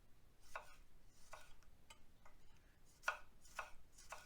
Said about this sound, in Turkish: Dörde böleceğimiz gibi direkt halka da doğrayabiliriz.